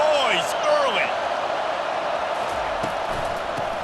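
Stadium crowd noise from a college football video game, an Air Force game, forms a loud, steady roar with a few whistle-like tones near the start and scattered thumps, and no voices standing out above it.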